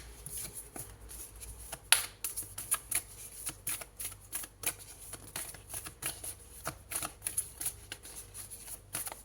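Oracle cards being shuffled by hand, a run of quick papery riffles and soft ticks repeating steadily at close range over a quiet background, with no talk.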